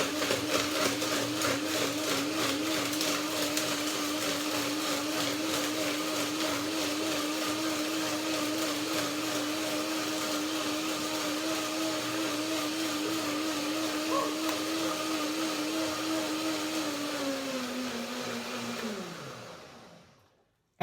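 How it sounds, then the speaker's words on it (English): A blender mixing a salad dressing whirs at a constant high pitch for about twenty seconds, then winds down and stops. "That was the first blending."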